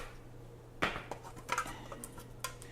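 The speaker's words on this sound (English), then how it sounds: "I'm cracking this open for the first time, so this is breadcrumbs" A new plastic container of breadcrumbs is cracked open in a home kitchen, giving three sharp plastic snaps and clicks spaced about a second apart over quiet room tone.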